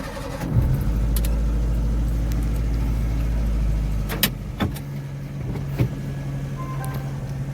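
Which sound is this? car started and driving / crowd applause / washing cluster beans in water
car started and driving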